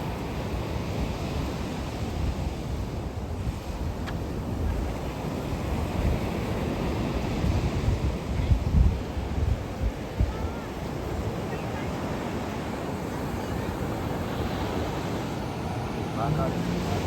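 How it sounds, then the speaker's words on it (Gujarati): Sea waves wash in steadily at Baga beach in Goa, a broad continuous surf roar with wind buffeting the microphone, while people talk nearby. "જો કેવી લહેરો આવે છે દરિયામાં"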